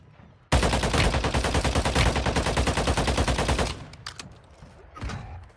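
Video game gunfire: a sustained automatic burst of rapid, evenly spaced shots, loud and close, runs for about three seconds before cutting off, followed by a few scattered quieter shots.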